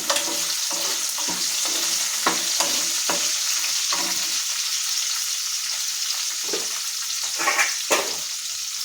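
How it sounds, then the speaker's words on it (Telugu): Something frying in a hot pan while being stirred, with a steady crackling sizzle and repeated rhythmic spatula scrapes and taps, close and loud, without talk. "కొంచెం వేగాలి"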